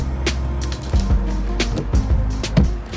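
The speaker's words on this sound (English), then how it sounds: "Once you get the screws out, you will need a pry tool to get that off." A pry tool works a rear speaker cover off the interior panel of a Chevrolet truck, giving close, loud plastic creaks, clicks and snaps in quick irregular bursts, with no talking.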